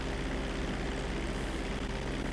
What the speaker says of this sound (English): I'm literally in a private jet right now.